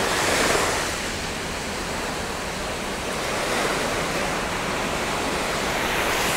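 Sea waves at Dubai's public beach, a loud continuous wash of surf with broad roaring noise and gentle swells, no voices.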